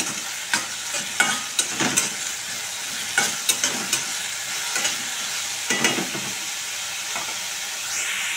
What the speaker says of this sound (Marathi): कांदा चांगला परतून घेऊया.